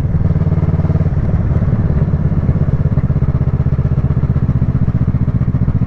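A 2012 Kawasaki ER6N twin-cylinder motorcycle in 35 kW restricted form lugs at low revs in sixth gear, a loud, steady, throbbing engine pulse with heavy vibration and a tractor-like chug.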